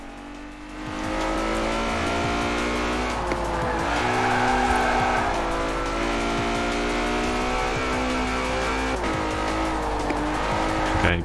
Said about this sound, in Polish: A teraz mamy Ferrari FF. Mega, mega szybka furka.